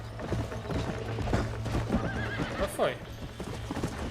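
A horse in the video game Red Dead Redemption on Xbox Series S: steady clip-clop hoofbeats with a rising whinny near the end, under a player's ongoing talk and game background sound.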